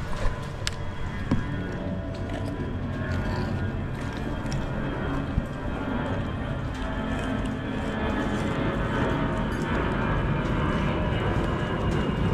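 An airplane flies over near an airport and an Air Force base, giving a broad steady engine drone that slowly grows louder across the stretch, with faint incidental knocks close by.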